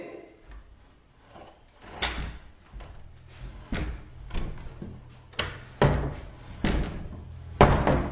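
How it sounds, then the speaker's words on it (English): A door in an empty hospital building is pushed open in several bursts, with a few sharp knocks and thuds over a low hum and a dim, hollow background. "They push this door open, but are too scared to enter."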